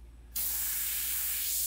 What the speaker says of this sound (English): when you're spraying transparents, you know, they can get dark